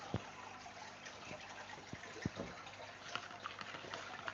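Water gushes and splashes steadily into an aquarium tank being refilled, a continuous close rushing with small bubbling pops, no voices.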